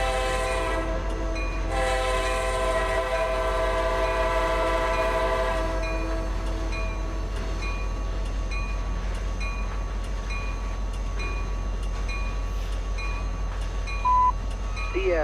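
A CSX freight train in the Trainz railroad simulator rumbles steadily, with a sustained horn blast in the first seconds followed by a continuous low engine drone and faint clicking of the wheels.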